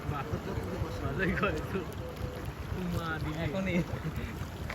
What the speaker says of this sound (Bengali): ইঞ্জিন দিয়ে না ঠেলে হাত দিয়ে ঠেলে ঠেলে যাচ্ছে